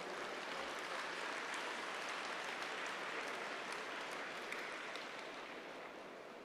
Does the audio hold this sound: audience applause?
yes